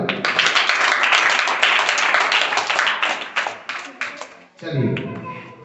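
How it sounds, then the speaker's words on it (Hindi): Students in a classroom clap their hands in a dense, steady burst of applause that thins out and stops near the end. "ताली बजाओ।"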